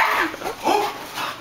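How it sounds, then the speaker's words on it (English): Dogs bark and whimper during a rough play fight, giving short yelping calls in quick bursts, close and fairly loud, with no talk over them. "When dogs start barking, it's bad."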